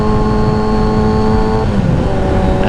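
A motorcycle ridden at night with steady engine drone and wind noise, heard from the rider's position through a Sedici Strada Primo 2 helmet. It holds a constant close hum throughout with a slight shift in pitch partway through.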